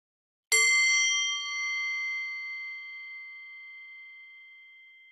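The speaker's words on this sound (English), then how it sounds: "as you listen to the gong" A single gong struck once during a meditation session, its bright ringing tone rising sharply and then sustaining in a long, slowly fading shimmer, alone in a quiet room.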